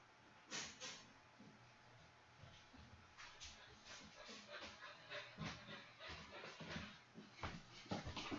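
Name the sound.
large dog panting and whimpering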